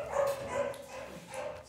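A dog gives a few short barks and yips close by in a house, quick bursts with brief gaps in between, fairly quiet overall.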